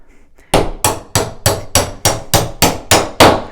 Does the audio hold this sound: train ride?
no